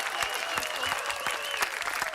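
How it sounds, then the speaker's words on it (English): Quiz show contestants and audience clap together for a team at the end of a round, a brief dense patter of hands at moderate volume with a few sharper claps standing out. "Give yourself a clap."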